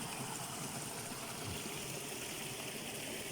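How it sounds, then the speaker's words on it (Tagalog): A shallow creek flows steadily nearby, a continuous faint rushing and trickling wash of water with no voices over it. "May sapa guys."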